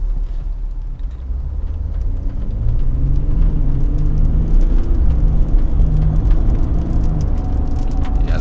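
A 2018 Ford F-150 pickup with the 3.0L Power Stroke V6 diesel accelerates, a steady low engine rumble and road roar building slightly and holding loud and close throughout, with no voices.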